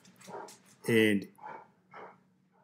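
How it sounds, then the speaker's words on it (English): Dogs bark a few times in the background, one louder yelp-like bark in the middle and softer barks after, with a person briefly speaking. "Sorry for the dogs walking back there."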